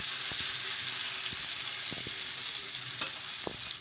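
A jowar and gram flour dosa sizzles on a hot pan, a steady close frying hiss with scattered small clicks and taps of a utensil, and nobody speaks.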